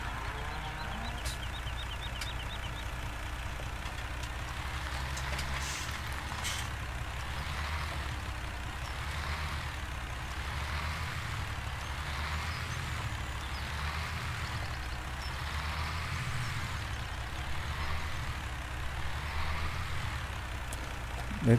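Simulated farm truck in a farming video game hauling silage, with a steady low engine drone held close and loud throughout, a light hiss of air brakes near the start, and no talk over it.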